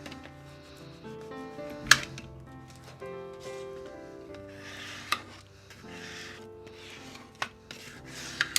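A hand rubs and smooths paper down onto a handmade junk journal built from recycled packaging, soft scraping strokes with a few sharper taps and crinkles, close and fairly quiet.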